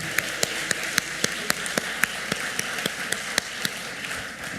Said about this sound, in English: give those a round of applause for their support over the years as well